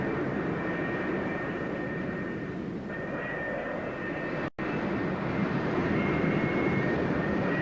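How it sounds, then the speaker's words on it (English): F-4 Phantom II jet aircraft taxiing on an aircraft carrier flight deck toward the catapult for launch, a loud, steady jet engine roar with a high whine, close and continuous throughout. "another pair of Phantoms taxis up for launch"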